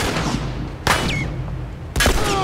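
Gunfire in The Last of Us on PS4: two sharp gunshots about a second apart, loud and close, each with a short ringing tail over game ambience.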